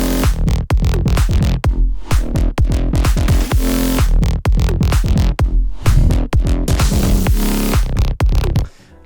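A dense electronic music drop built on heavy Vital soundbank bass sounds pounds along for about nine seconds, loud and continuous, with punchy rhythmic hits and thick low end and no voices.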